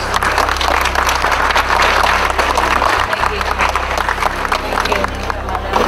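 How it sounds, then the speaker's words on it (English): A large audience applauds at a formal ceremony in the Philippines, welcoming the Supreme Master Ching Hai onstage. The clapping is loud and sustained, a dense wash mixed with crowd babble and a low hum throughout. "Please give her a big round of applause"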